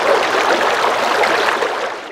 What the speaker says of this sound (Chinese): 那么还有小溪流的声音